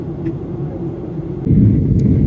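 Steady low rumble of an airplane cabin descending toward Paris, a constant engine drone that grows noticeably louder partway through, with no talking.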